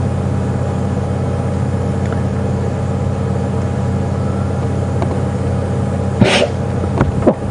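A single short sneeze cuts through the steady idle of a safari vehicle at Djuma Game Reserve, followed by faint clicks and rustles.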